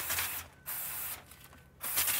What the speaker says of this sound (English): All right, so brake parts cleaner.